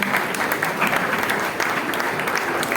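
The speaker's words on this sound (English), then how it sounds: "Can we have a round of applause for the organizers?" A crowd at a Palestine solidarity evening marking the Nakba anniversary claps for the organizers, a short, steady burst of dense applause with no voice over it.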